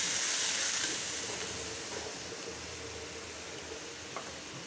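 Spices (turmeric, chili and coriander powder) hit hot oil with onion in a pan, giving a loud, steady broadband sizzle that softens slightly over a few seconds, with one small pop near the end and no talking.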